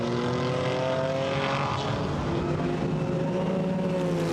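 Several GT4 race cars battle through the tight right-hander at Mastersbocht, Zandvoort, their engines droning loudly with sliding pitch as they brake and downshift, with no talk over it.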